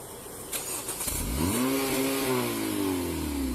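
A car engine revs hard and climbs in pitch as the vehicle pulls away, loud and close, with a rising harmonic whine after a sharp thump, fleeing from police after a wreck.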